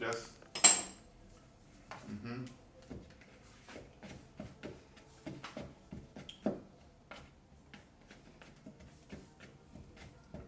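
A metal utensil cuts margarine into Easter bun dough in a bowl, giving a long run of sharp clicks and scrapes against the bowl. The taps are close and fairly quiet, with a louder clatter near the start.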